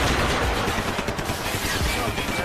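Video game gunfire in Max Payne 3, dense and continuous with rapid overlapping shots forming a loud, unbroken barrage.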